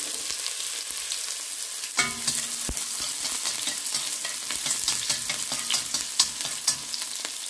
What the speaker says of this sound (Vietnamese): Mình cháy cái tôm này lên.